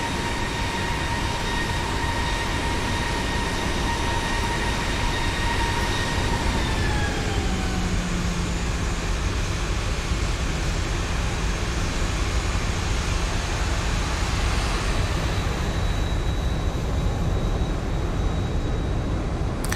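A Boeing 737-800 taxiing and backtracking down the runway in X-Plane 12, a continuous loud jet engine rumble with a steady whine that glides lower partway through.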